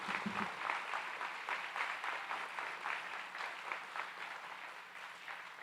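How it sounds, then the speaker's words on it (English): A steady wash of audience applause fills a Stephens College undergraduate graduation ceremony, a dense, even patter of many hands heard from some distance at moderate volume throughout. "please, applause"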